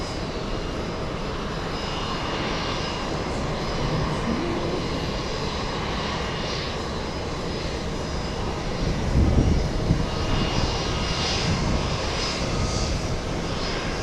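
A jet airliner's engines, including a large Xiamen Airlines plane, rumble at JFK airport as a steady, loud broadband roar that swells slightly midway, heard from the terminal area with no talk.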